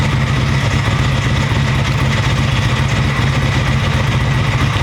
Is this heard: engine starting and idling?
yes